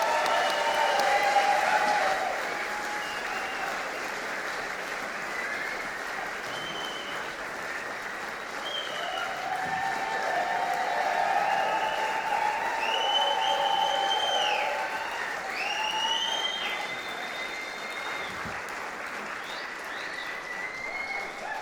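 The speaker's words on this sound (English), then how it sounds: "Please give them a round of applause." A concert audience applauds at the Capitol, a broad steady wash of clapping lasting around twenty seconds with scattered whistles or cheers rising midway, no speech over it.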